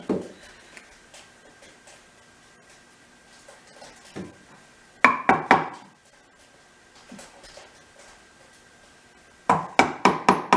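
A chisel is struck to cut notches into a wooden trestle bench top, giving bursts of sharp rapid knocks near the middle and end, separated by quieter taps and pauses.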